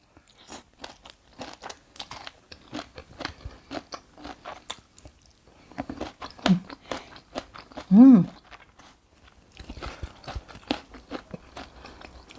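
Crisp, close crunching and chewing of fried food while eating papaya salad, bites repeating in an irregular rhythm with a short vocal sound in the middle.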